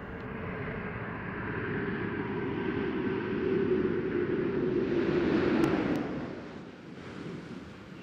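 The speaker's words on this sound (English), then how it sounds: "of the Space Shuttle Endeavour as it's coming in for a landing" Space Shuttle Endeavour on the STS-134 landing approach gives a broad, sustained rushing roar, heard from afar and in the open, that swells and then fades over several seconds.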